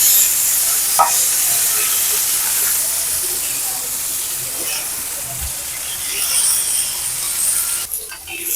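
Onions hiss and sizzle in a hot pan, a steady, bright frying noise heard up close, with a few clicks and stirring knocks and a brief shift near the end.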